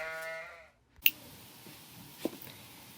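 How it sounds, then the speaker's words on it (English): A sheep gives a short, tonal bleat, then cuts off, leaving a couple of soft clicks over a quiet background. "It was sheep, everybody."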